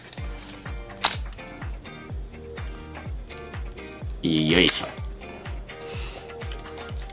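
A Zeiss Ikon folding bellows camera with a dead slow-speed governor is charged upward and fired, giving a run of small regular mechanical clicks and ticks close by, with a brief grunt of effort from a person.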